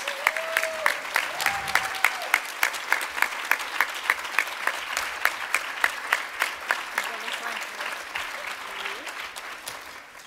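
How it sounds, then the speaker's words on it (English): An audience at a heroes luncheon applauds as superheroes leave the stage, with a dense wash of clapping carrying rhythmic unison claps at a steady beat, plus a few voices calling out over it. "let's give them one big last round of applause"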